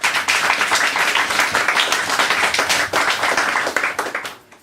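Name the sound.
audience applause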